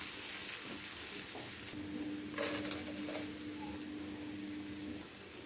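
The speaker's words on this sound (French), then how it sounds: "Je mélange." Tajine ingredients with ginger, parsley and coriander being stirred in a pot: a faint, steady low sizzle with soft scraping spoon strokes and a couple of brief clinks, quiet and close, with no talking.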